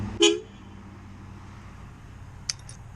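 A short, bright upgraded horn on a TaoTao TBR7 Hawk 250 motorcycle honks once near the start over faint background rumble, followed by a brief higher chirp later.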